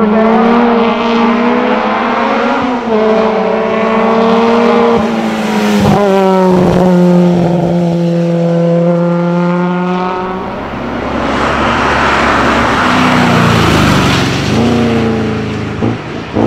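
An Alfa Romeo Giulietta GTV historic race car on the Chamrousse hill climb, its engine loud and close, revving hard through rising gear pulls with sharp shifts, then fading into a rougher drone.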